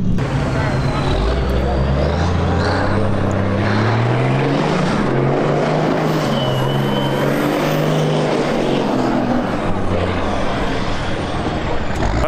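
A V8-swapped Mazda with engine issues revs at a burnout event, loud rising and falling engine drone with heavy low rumble, people talking over it.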